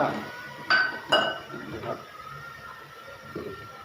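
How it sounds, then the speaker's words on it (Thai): Toasted rice being pounded with a beer bottle for a Thai beef curry, giving a few sharp glassy clinks and knocks close by, with quiet voices murmuring in the background. "หนูน้อยกำลังตั้มข้าวคั่วอยู่นะครับทำด้วยขวดเบียร์"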